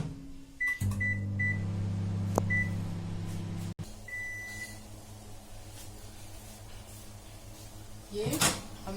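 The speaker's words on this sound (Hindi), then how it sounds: "मैं इसमें माइक्रोवेव का यूज कर रही हूँ" A microwave oven hums steadily while softening potatoes, with a few electronic beeps, a sharp click of the door, then quieter background rustling and a clatter near the end.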